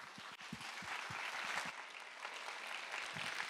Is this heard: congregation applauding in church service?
yes